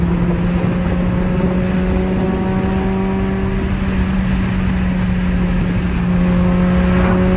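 Honda Civic EG4 VTi, a right-hand-drive JDM car, drives with its engine pulling steadily under load. The drone holds loud and continuous throughout with no talking, and the engine note rises slightly near the end.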